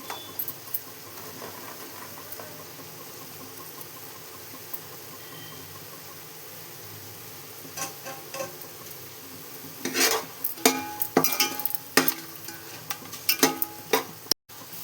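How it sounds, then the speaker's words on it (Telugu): Paneer pieces fry in a masala with turmeric and chilli powder, giving a steady low sizzle, then a run of louder stirring scrapes and clinks near the end. "సిమ్లో పెట్టుకుని వేయించుకుందామండి ఈ మసాలా అంతా కొంచెం పసుపు కారం కూడా వేసాను పన్నీర్ ముక్కలు కూడా వేసేసుకుందామండి"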